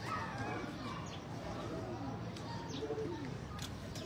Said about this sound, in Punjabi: ਕਬੂਤਰ